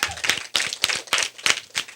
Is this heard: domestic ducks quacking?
no